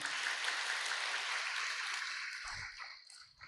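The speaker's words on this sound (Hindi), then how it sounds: "ताली तो बजाओ जरा।" An audience at a spiritual class claps together in a dense, steady wash of applause that gradually fades out near the end.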